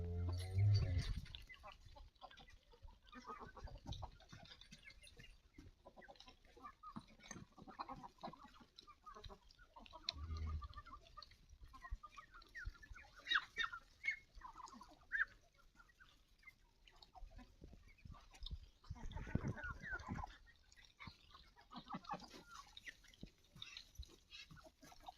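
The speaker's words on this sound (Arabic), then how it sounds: "استمتعوا يا جماعة بجمال الصوت بتاع الفراخ والمعيز" Chickens cluck and call on an Egyptian countryside farm where goats are also kept, with scattered close and distant bird sounds and rustling throughout.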